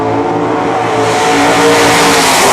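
A 1969 Chevrolet Camaro big-block drag race car roars loudly and close, its engine note climbing steadily as it accelerates hard at a racing meet.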